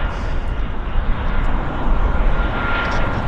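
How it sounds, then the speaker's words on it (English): Two WestJet jet airliners arriving at Vancouver Airport, a loud, continuous broadband engine roar and rumble that holds steady throughout, heard from nearby. "double Westjets coming in here"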